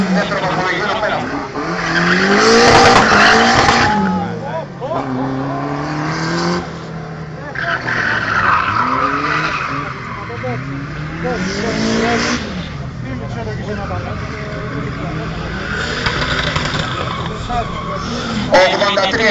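Competitor number 20's drift car on a scored competition run at the 2009 Hellenic Drift Championship: loud sustained tyre squeal and skidding over a roaring, revving engine that rises and falls, with a commentator talking throughout.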